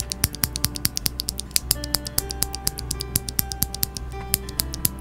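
Loud, snappy linear frankenswitch mechanical keyboard switches being pressed, a steady run of sharp, slightly high-pitched clacks with a faint background hum.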